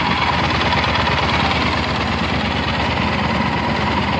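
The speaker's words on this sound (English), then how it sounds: "This is a liquid cooled four stroke." A Yamaha Super Tenere 1200 motorcycle with a liquid-cooled 1200cc twin-cylinder four-stroke engine idles steadily nearby, a constant loud throbbing rumble with no talk over it.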